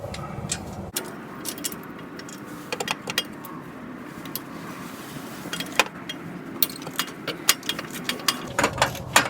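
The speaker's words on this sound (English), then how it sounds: "Crack this one loose and then see if I can get it with a ratchet." A ratchet works a bolt on a VW Beetle exhaust for a 2054cc upgrade. Sparse mechanical clicks come in short runs, and the ticking grows quicker and denser near the end.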